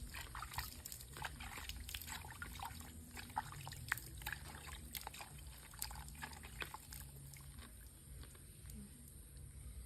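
Water splashing and trickling as a face is washed by hand, with repeated small pours and splashes in a steady, close rhythm over a low background hum.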